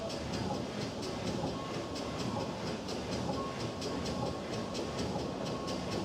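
Steam train in an animated series rolling steadily on rails, a continuous rumbling clickety-clack with hiss and repeating wheel beats, moderately close and alone.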